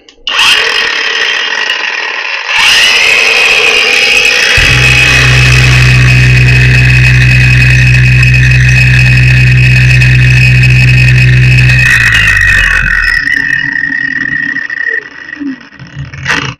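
A LUDYVI LB130 cordless angle grinder runs at its first speed setting, a loud, steady high whine that holds for about ten seconds and then winds down, with no talking over it.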